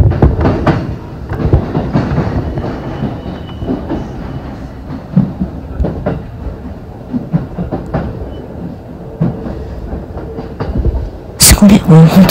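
A JR Ome Line E233 series train rolls along the track with rumbling, clattering wheels and brief clicks, running steadily near and loud, with a sharp hiss near the end as it arrives and stops.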